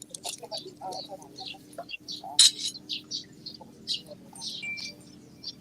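Bird tweeting sound effect played on a morning radio show, a series of short high chirps scattered across several seconds, fairly quiet, with faint studio voices mixed in.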